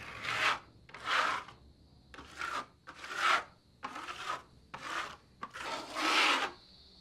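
Plaster being worked onto an arch with a tool makes a series of seven rhythmic rasping, rubbing strokes, each about half a second, close and fairly quiet with short pauses between.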